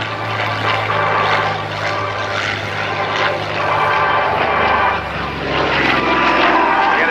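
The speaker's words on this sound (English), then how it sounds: "One Corsair was universally acknowledged as the finest naval fighter of World War II." A Vought F4U Corsair, the World War II naval fighter, flies at an airshow at McGuire AFB with a loud, continuous propeller engine drone that swells and fades slightly, with a voice faintly beneath it.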